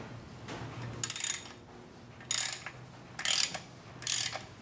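Four short bursts of ratcheting clicks come from a wrench turning a motorcycle's rear axle chain adjuster, separated by quiet pauses, close and fairly soft, with no talking.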